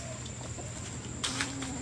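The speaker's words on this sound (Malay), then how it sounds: "Ayam duduk dalam reban burung." Chickens clucking inside a bird cage; a few brief clucks sound close amid steady background noise, with a slightly louder burst near the end.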